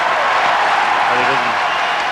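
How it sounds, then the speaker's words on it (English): A 9,000-strong arena crowd at the 1992 Albertville Olympic ice dance event roars and cheers loudly in a steady wash, with no break, as the audience waits to greet the Duchesnays. "the cheer goes up even before they're introduced"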